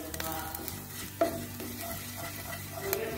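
Spices, coriander and red chilli powder sizzle in a hot pan as they are stirred and roasted for a water chestnut snack, a steady close frying hiss with occasional spatula scrapes.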